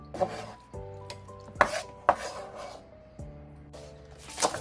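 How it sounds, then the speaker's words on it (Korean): A knife chops two stalks of Korean green onion on a cutting board, giving a few sharp, scattered chops close by over a steady tonal background. "대파 2뿌리 썰어볼게요"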